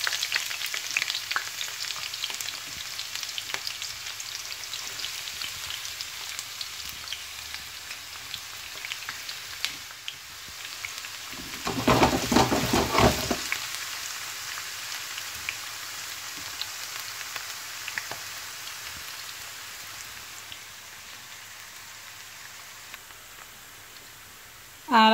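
Chopped onion fries in hot oil in a pan with a steady crackling sizzle throughout, swelling into a louder burst of frying midway before settling back to a constant hiss.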